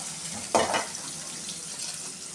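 Mustard seeds and onions fry in cooking oil in a kadai for an eggplant kara kulambu, giving a steady close sizzling hiss with one brief louder crackling burst and no talking.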